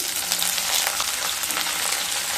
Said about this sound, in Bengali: তেলের মধ্যে দিয়ে দেব সাত আট কোয়া রসুন রসুন দিয়ে একটু নেড়ে নেব এবার দিয়ে দেব তিনটি মিডিয়াম সাইজের কেটে রাখা পেঁয়াজ